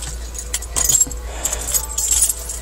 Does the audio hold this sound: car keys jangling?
yes